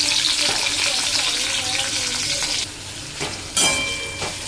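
Onion fries in hot oil with a loud, dense sizzle up close, broken by a few stirring scrapes and a sudden flare of crackle midway.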